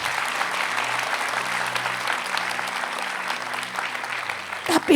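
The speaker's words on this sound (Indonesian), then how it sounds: "Saudara boleh kasih tepuk tangan buat Tuhan." Church congregation applauding during a sermon session, a steady wash of many hands clapping that sustains throughout, with a low hum beneath and a brief loud bump at the end.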